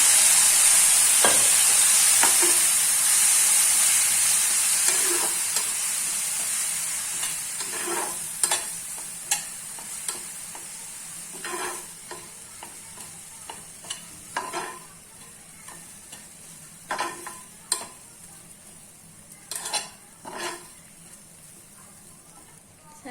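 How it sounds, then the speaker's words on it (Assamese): Vermicelli frying in a pan over a low flame with a little water added, giving a steady bright sizzle that fades gradually while a spoon scrapes and stirs in repeated short strokes, close by and with no talking. "ইয়াতে মই পানী দি দিম, অলপ পানী দি কিনে আৰু অলপ ভাজিম।"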